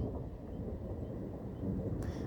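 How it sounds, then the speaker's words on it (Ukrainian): Thunderstorm with a steady low rumble of thunder rolling throughout, loud and continuous, with a brief sharper crack near the end. "Так, це гроза."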